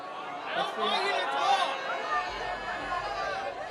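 Noisy crowd of college students chattering and calling out before a debate, a dense steady babble of many voices close by with scattered laughter and shouts.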